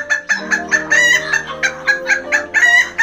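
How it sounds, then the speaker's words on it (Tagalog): A Serama bantam hen cackles loudly and close by in a rapid, repeated series of sharp, rhythmic squawks, with no talking. "Grabe, hindi pa nga nangingitlog, nagpuputak-putak na."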